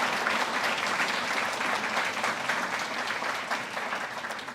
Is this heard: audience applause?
yes